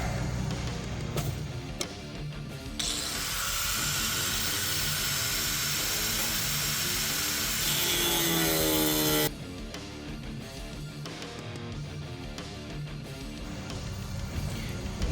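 Metal being cut for intercooler openings on an LS 5.3L engine with a ProCharger supercharger, heard as a loud, steady high-pitched cutting whine that runs for several seconds and then stops abruptly.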